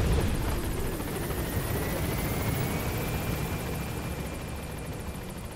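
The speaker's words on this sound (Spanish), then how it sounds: "he pillado el helicóptero para irnos a la base" A helicopter in the video game Metal Gear Solid V flies steadily, its rotor and engine giving a constant, dense whirring roar that holds an even loudness throughout with no voices.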